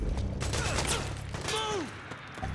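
Gunfire in the PS3 video game Metal Gear Solid 4, a rapid fusillade of shots mixed with mechanical clatter and whistling sweeps, loud and continuous before easing off, with faint voices.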